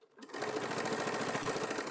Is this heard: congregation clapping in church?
no